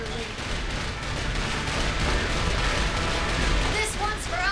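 Saints Row IV gunfire aimed at the Washington Monument, a steady, loud, unbroken stream of rapid shots and blasts with faint voices mixed in underneath.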